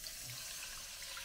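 About 300 ml of water is poured into a pan of smoked haddock and creamed corn curry, giving a steady, close splashing rush throughout the short moment.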